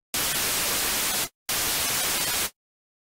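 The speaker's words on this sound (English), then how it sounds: "a white noise" Two bursts of white noise from the u-he Hive 2 software synthesizer, each a loud, even hiss about a second long, cut off sharply, with a brief silence between them.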